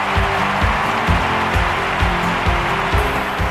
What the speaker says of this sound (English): And the crowd stand on their feet to applaud.